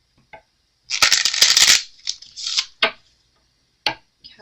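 Tarot cards being shuffled up close: a long riffling burst followed by several shorter shuffles and a few soft taps, no talking.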